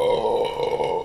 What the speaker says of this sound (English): And it still makes you burp.